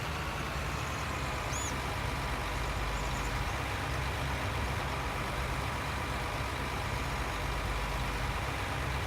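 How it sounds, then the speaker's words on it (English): A tractor engine in Farming Simulator 19 runs steadily throughout, a continuous low rumbling idle with no change in pace, close and even in level. "I think I'll have to bump it with my tractor a few times and get in position"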